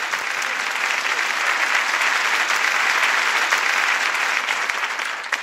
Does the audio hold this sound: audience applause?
yes